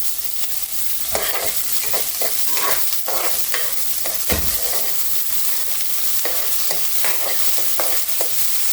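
Onions being stir-fried in a pan with crackling mustard seeds and urad dal for a broad beans stir fry, a steady close sizzle broken by repeated scraping stir strokes, with no talking.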